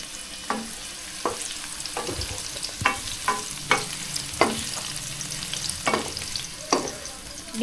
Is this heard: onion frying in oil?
yes